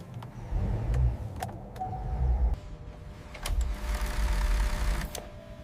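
A V16 engine in a 24-karat gold-plated Bugatti fires up: close, loud mechanical whirring and cranking in two surges with sharp clicks, dropping briefly near the middle before building again.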